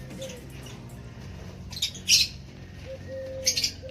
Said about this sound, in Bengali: আজ কত দেখো বদ্রি পাখি, ওরে ওরে আমাকে দেখে পালিয়ে যাচ্ছে